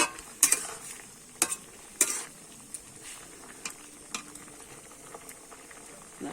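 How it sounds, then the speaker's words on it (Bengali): Wild figs boil in hot water in a pot on a stove, a soft bubbling simmer punctuated by several sharp, close clicks and clatters of a utensil against the pot, fading to quieter bubbling. "ডুমুরটা আমি একটু সিদ্ধ করে নেব"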